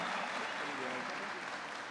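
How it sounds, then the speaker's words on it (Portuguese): An audience applauds a speaker as he is welcomed onstage at an events-sector talk, with dense, steady clapping throughout and no pauses. "a gente tem que dar mais palmas para ele"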